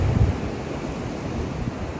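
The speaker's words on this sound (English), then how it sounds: "and this wild sea and this wind" Wild sea waves breaking on a near-deserted Koh Lanta beach in Thailand, with strong wind buffeting the microphone; a loud, continuous roar of surf with a heavier gust near the start and no voices.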